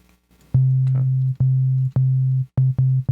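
A synthesized 808-style sine wave bass plays as a series of deep sustained tonal notes, each starting with a slight click and stopping abruptly, with several repeated hits in an uneven rhythm.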